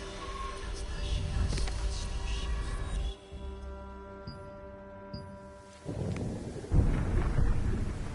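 Thunderstorm in the Throne and Liberty video game, deep rolling thunder booms that swell, drop away into a quieter tonal stretch, then return with a loud crack near the end, mixed with a soft musical drone.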